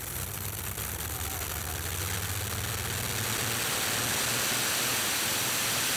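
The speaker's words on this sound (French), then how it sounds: "Snoopy propulsé par 2V12 Rolls-Royce" Snoopy, a pulling tractor powered by two Rolls-Royce V12 engines running on methanol, drones with a deep, steady idle at a Bernay Eurocup tractor pulling event, heard at a distance under broad outdoor noise.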